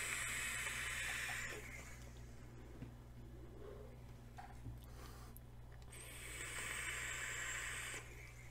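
Airy hiss of vapor drawn through a Mutation X V3 atomizer with a single 16-gauge 0.1 ohm coil at 100 watts, airflow wide open, in two soft drags separated by a quieter pause.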